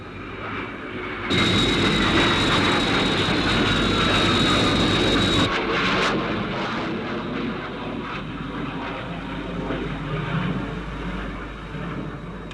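Sky 1 interceptor aircraft from the TV series UFO flies past with a loud, sustained jet roar and a high whine that cuts off sharply, leaving a lower rumbling drone that fades out slowly.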